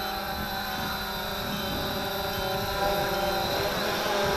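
Cheerson CX20 GPS quadcopter drone lifting off and holding a hover outdoors in a light breeze, a steady high-pitched whine of motors and propellers, close and constant, swelling slightly as it climbs.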